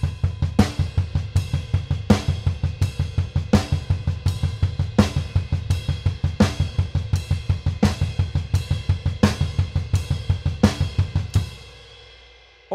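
Drummers' feet play a double bass drum pattern of fast, even single strokes, a rapid steady stream of punchy low kicks with cymbal crashes on the accents. It sounds loud and close for about eleven seconds, then rings out, with no voices.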